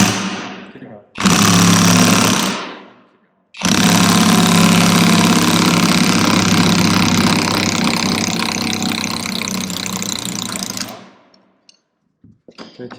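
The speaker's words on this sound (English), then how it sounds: "Let's get an impact on that." An impact wrench hammers loudly and close while tightening a part on a Ramcharger build: a short burst, a pause, then a long sustained rattling run of about seven seconds that tapers off into near silence.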